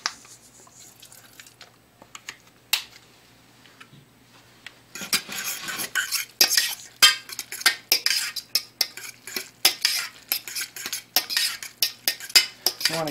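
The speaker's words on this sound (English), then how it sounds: "I'm going to stir that in with a little bit of lemon juice" Spoon stirring seasoned rice with a little lemon juice in a pan for a Mexican casserole: quiet scattered clinks at first, then steady close scraping and tapping of utensil against the pan, no talking.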